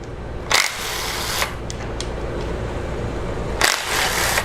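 An impact wrench spins bolts off a Jeep Cherokee 2.4 engine during timing chain tensioner removal, with loud broadband bursts near the start and again near the end over steady shop noise.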